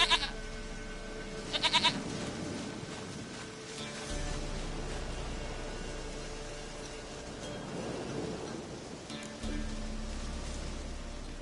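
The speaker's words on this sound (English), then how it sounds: "Goat of mine, dearest," A goat bleats in The Witcher video game: a few short, fairly faint bleats, one at the start and more later, over a steady low ambient game soundscape.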